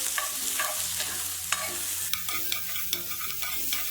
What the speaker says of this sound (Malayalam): എണ്ണ ഇവിടെ ചൂടാകുമ്പോഴേക്ക് ഞാൻ ഈ ചെറുതായിട്ട് കട്ട് ചെയ്ത് വെച്ചിട്ട് ചിക്കൻ ഇട്ട് കൊടുക്കാം.